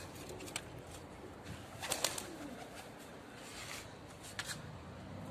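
Pigeons being let out of a loft give soft coos and sudden bursts of wing flapping, faint and intermittent against a quiet outdoor background.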